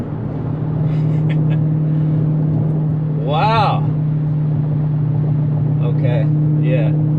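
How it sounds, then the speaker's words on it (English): A tuned Dodge Challenger SRT Hellcat Redeye with a Diablo tune rumbles steadily while driving, a constant low drone with a short rising rev in the middle, and a voice exclaims briefly over it. "I just love how this car sounds."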